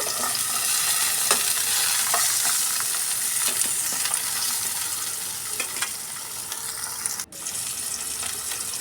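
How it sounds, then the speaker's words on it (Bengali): Potatoes fry in a pan for a potato-aubergine-prawn dish, a continuous loud sizzle broken by repeated scraping and clicking stirring sounds and one sharp knock near the end. "এরপর আমি আলুগুলোকে ভেজে নেব"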